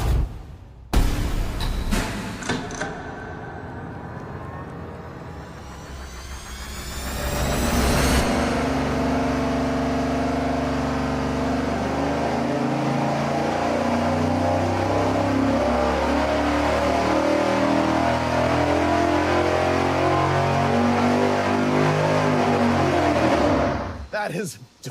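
A 454 big block Chevy V8 on an engine dyno, run with a Speedmaster intake manifold and a small cam, fires and revs with a few sharp blips, then pulls a long, loud, steady wide-open sweep before cutting off abruptly.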